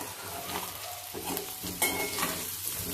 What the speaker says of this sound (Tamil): இப்போ இதை கிளறி விடணும்.